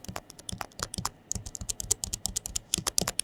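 Rapid, crisp clicking of typing on a compact folding keyboard used with an iPad mini, close up, with quick irregular keystrokes and no voices.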